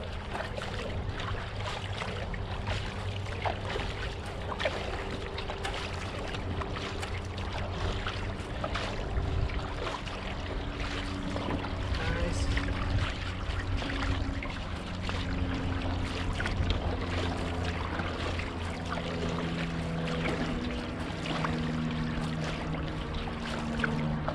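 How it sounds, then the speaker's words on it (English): Canoe being paddled on open water, a steady low wash of water and hull noise with faint irregular paddle splashes, continuous and fairly quiet throughout with no talking. "Don't worry too much about the direction, just keep paddling hard."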